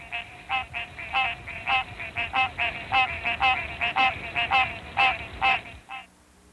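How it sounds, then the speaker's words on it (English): A male green tree frog from Missouri gives a rapid series of about twenty nasal, quacking calls in a fairly steady rhythm, close and clear over a low background hiss, ending abruptly. "The voice of a male green tree frog is a series of quacking sounds."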